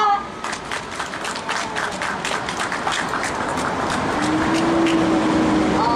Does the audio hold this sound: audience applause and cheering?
yes